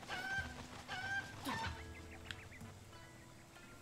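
A cucco in Zelda: Breath of the Wild gives a few quick, fairly faint clucks over soft game ambience, with scattered small clicks and footsteps afterward.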